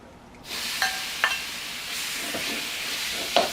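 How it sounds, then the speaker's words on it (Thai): Pork belly sizzling loudly in a hot pan with no oil, a steady close frying hiss broken by several sharp clinks of a utensil stirring against the pan. "เนี่ยหมูใส่กระทะก่อน"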